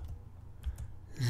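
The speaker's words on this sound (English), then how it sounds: "I'm going to type sudo" Faint typing on a computer keyboard as a terminal command is entered on an openSUSE Tumbleweed KDE Plasma desktop, a few soft, scattered key clicks at low level with no talking.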